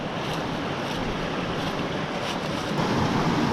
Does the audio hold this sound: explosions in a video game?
no